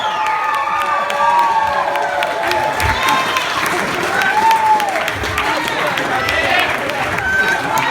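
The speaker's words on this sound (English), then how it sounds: "give a round of applause for Loren Tadoon" Wedding guests applaud and cheer at a reception, a lively crowd wash with shouts and voices mixed through steady clapping, continuous at a moderate level.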